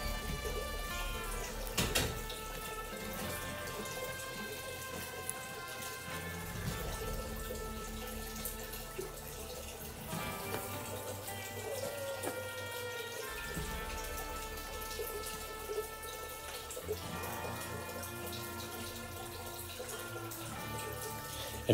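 Water runs continuously into an indoor minnow tank, a steady splashing, trickling rush that stays fairly loud and close with no speech over it.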